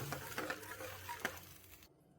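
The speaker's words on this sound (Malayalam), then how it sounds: "ഉപ്പ് നല്ലതുപോലെ ഒന്ന് മിക്സ് ചെയ്തിട്ട് കൊടുക്കാം." Spoon stirring salt into a pot of parippu, Kerala lentil curry, off the heat: soft scraping and sloshing strokes close by for about two seconds, then quiet.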